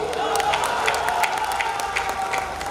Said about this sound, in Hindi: मुझे आपसे इतनी तालियों की भी उम्मीद नहीं थी जितनी आपने बजाती है